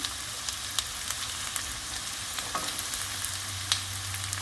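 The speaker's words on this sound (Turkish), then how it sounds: "yeşil biberimi iri iri doğradım. Onları ilave ediyorum yeşil biberimi." Coarsely chopped green peppers added to garlic in a pan sauté with a soft, steady sizzle, punctuated by brief pops and utensil taps, moderately close and unaccompanied by talk.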